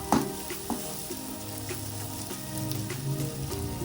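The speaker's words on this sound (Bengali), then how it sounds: "চিজটা দিয়ে এরকম করে একটু নাড়াচাড়া করে দেবো।" Egg bhujia with cheese fries in a pan, a close, steady sizzle broken by a few scraping stirs, with no voices.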